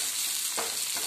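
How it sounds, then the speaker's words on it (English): Sliced onion fries lightly in refined oil in a kadai, a steady close sizzle with a brief stir partway through. "not full fry, light fry, frying in the refined oil in the kadai"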